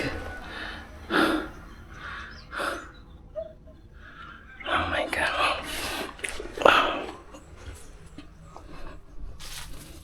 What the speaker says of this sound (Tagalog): Yung hingal-hingal ka tapos wala tubig.